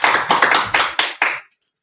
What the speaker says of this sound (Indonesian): Tepuk untuk Reni masih mengingat pembelajaran kita minggu lalu.